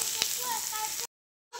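Chopped tomatoes are tossed into hot oil with fried onion tempering, giving a loud, steady hiss and crackle that cuts off abruptly, then resumes briefly.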